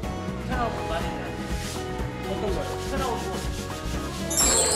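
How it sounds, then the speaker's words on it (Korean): Wood is sanded by hand while a bookshelf is repaired, giving a steady, close rasping rub in repeated strokes that carries on throughout, with faint tonal sounds underneath. "전기 톱질, 사포질, 망치질 하는 모습이 예사롭지 않다."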